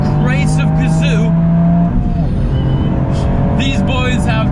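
A Toyota GR Yaris drives along a wet, greasy, leaf-strewn, tree-lined British B road, its engine droning loudly with a shift in pitch midway, as someone talks over it.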